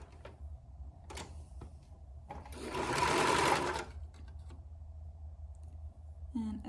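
A sewing machine stitching a short seam in fabric for baby bell-bottom pants runs in a single steady whirring burst of about a second and a half, close and loud, with scattered clicks and handling noise before and after.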